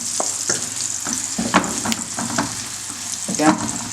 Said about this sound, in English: let the mushrooms start to get brown first, and then maybe turn the heat down a little bit and stick in the garlic then